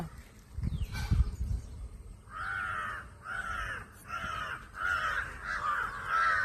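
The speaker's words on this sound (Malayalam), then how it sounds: "കാക്കയൊക്കെ വരണടി, തലേ കൊത്തു." Crows caw repeatedly in a series of harsh, fairly loud calls, following a brief rustling burst at the start.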